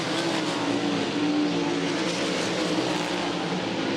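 World of Outlaws sprint cars racing on a dirt track at Baytown, Texas, a loud continuous engine roar at full throttle with no break, several cars blending into one dense drone.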